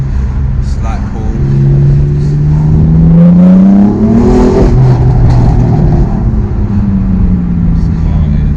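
A Stage 3 turbocharged BMW M4 accelerates hard from inside the cabin, its loud engine tone climbing in pitch through a gear change with a whooshing turbo.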